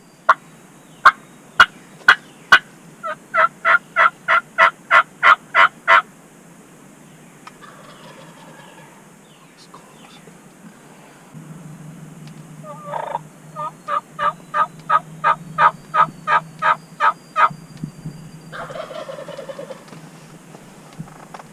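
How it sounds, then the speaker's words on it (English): Loud, rhythmic runs of wild turkey hen yelps repeat in quick series, broken up by rattling gobbles and low background rumble. "You're about to hear is the competition between the real life hen and Mike."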